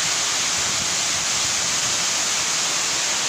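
Water gushes up from a burst pipe through torn asphalt in a St. Petersburg courtyard: a loud, steady, broadband roar like a waterfall that goes on without a break and without voices.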